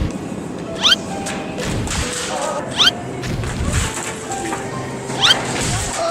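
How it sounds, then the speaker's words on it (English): A plastic gallon jug is smashed in a challenge stunt, heard as three sharp crunching impacts a couple of seconds apart, loud and close over a noisy, busy background. "So the gallon smashing challenge."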